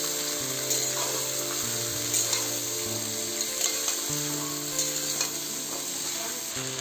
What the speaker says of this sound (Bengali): আলু আর লঙ্কাগুলো ভালো করে ভাজা করে নেব।